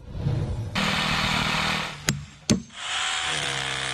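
Power drill running during a home renovation, a sustained whirring drone interrupted by two sharp knocks, then whirring again, close and loud.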